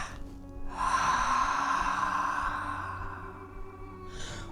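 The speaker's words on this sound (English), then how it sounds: "breathe in" A single deep, drawn-out inhale during guided breathing at a sacred oil ceremony, close and breathy, swelling and then easing off over a soft background hum, with a quiet sound returning at the end.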